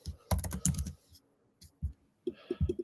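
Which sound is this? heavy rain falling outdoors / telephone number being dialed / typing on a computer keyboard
typing on a computer keyboard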